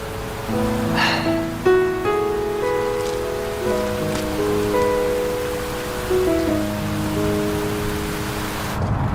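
Steady rain patters under soft melodic music, an even wash of noise that continues for the whole stretch.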